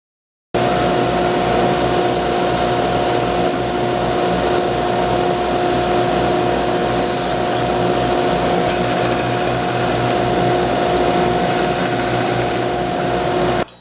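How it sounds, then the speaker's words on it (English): A bandsaw runs steadily and loudly while trimming excess material off a handmade slingshot, giving a continuous whine with a faint rapid pulsing underneath, close by and with no talking. "now I'm going to use the bandsaw and cut off the excess"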